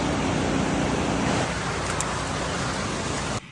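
Steady, loud wash of surf at a private beach at Clarissa Falls in the Cayo District of Belize, a continuous rushing roar that cuts off at the end, no voices.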